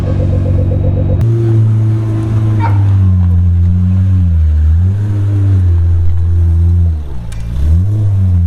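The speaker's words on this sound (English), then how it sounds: "That was the first time I've ever seen a Pagani in motion" A Pagani supercar with an AMG V12 moves through a car park, its loud, close engine note droning and rising and falling with the revs for several seconds.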